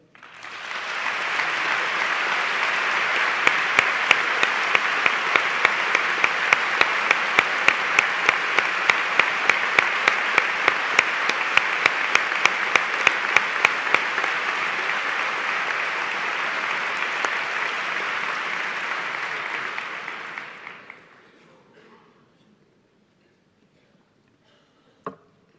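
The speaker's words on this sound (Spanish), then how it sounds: "Tú, al contrario que los pregoneros, no has buscado jamás el aplauso. Por eso me vas a permitir que sea yo el que lo pida para ti." Sustained, loud applause from a large audience at the Holy Week proclamation in Seville. A dense wash of clapping holds steady for about twenty seconds, then cuts off abruptly into near silence, followed by one isolated knock at the end.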